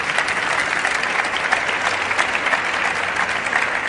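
Audience at an education conference applauds steadily, a dense, even wash of clapping from many hands held at a constant level for a few seconds.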